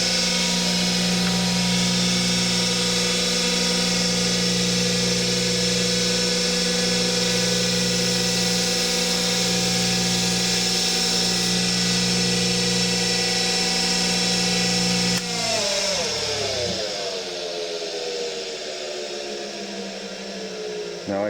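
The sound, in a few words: wire wheel cleaning a bolt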